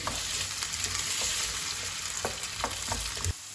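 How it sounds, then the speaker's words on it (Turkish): Steady crackling sizzle of small diced potato cubes frying in oil, with a few scraping stirs, ending abruptly. "Minik küp halinde doğradım patatesleri 3-4 dakika kavuruyorum"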